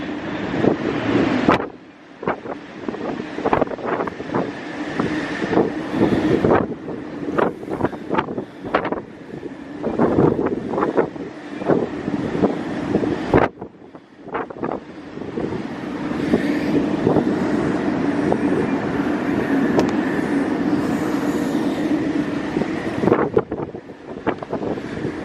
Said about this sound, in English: Way too windy up there. Felt like I was going to get blown over.